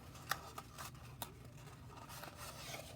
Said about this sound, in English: I'm just going to use some scissors here real quick